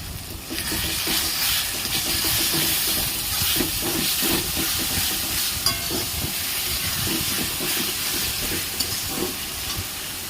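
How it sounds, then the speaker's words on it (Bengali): Spices and garlic paste frying in hot oil for a mutton curry, a loud continuous hiss and sizzle with irregular crackles and spatula scrapes throughout. "এরপর আমরা দেব রসুন বাটা দিয়ে ভালো করে ভেজে নেব"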